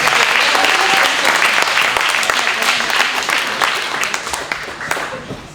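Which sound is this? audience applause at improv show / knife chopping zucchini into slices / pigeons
audience applause at improv show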